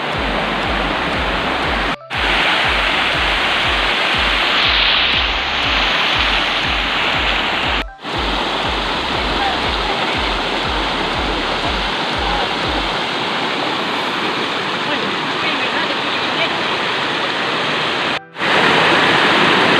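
Tumpag Falls pours in a steady, loud, full roar of falling water, a dense rushing wash that barely changes across the whole stretch, with no voices over it.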